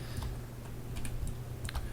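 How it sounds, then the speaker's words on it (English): Keys tapped on a computer keyboard numpad while entering values during Blender 3D modeling, a quick run of light clicks over about two seconds, near and fairly quiet above a low steady hum. "So just type it in on your keyboard, on your numpad."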